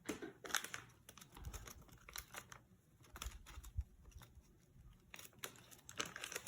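Packaging around an RC light bar being opened gives faint, irregular crinkles and tears, with scattered close clicks and rustles.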